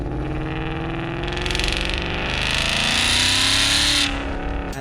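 A Ford Mustang GT V8 with long-tube headers and a 3-inch AWE Touring catback exhaust roars loudly, its pitch climbing as the engine revs up, then dropping back near the end.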